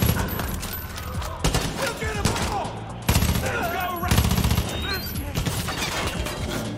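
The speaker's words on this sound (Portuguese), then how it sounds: "estão atirando em mim" Gunfire in the video game Far Cry 5 on a GoldenEye 007-themed map: dense, rapid bursts of automatic shots crack continuously at close range, loud and relentless, with no clear pauses.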